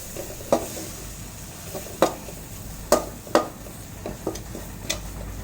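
Soya chaap masala being mixed in a pan, with a spoon scraping and knocking against the metal in several distinct strokes over a soft background sizzle.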